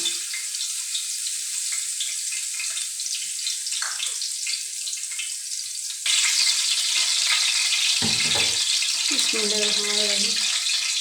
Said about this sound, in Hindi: 1 टेबल स्पून जो लहसुन की मैंने बचा लिया था वो इसमें डाल दूँगी